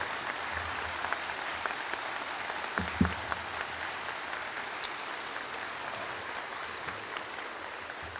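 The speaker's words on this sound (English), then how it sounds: "I think you ought to stand and give God a hand clap of praise for this." Church congregation standing to applaud in praise, a steady wash of hand claps filling the whole stretch at moderate level, with one sharper louder clap burst near the middle.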